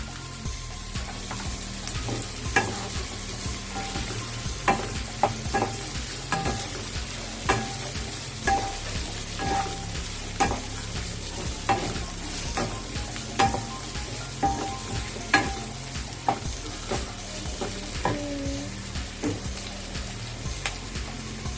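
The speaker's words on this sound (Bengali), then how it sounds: "হাই ফ্লেমে দিয়ে দেব, দিয়ে এটাকে নাড়াচাড়া করব।" Capsicum stirred and fried on high flame for egg chilli, continuous sizzling under frequent sharp spatula clacks against the pan, close and regular.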